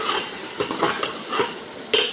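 Mongre and fenugreek tipped into a cooking pan, clattering utensil and pot sounds with stirring scrapes over a faint sizzle, ending in a sharp metallic knock.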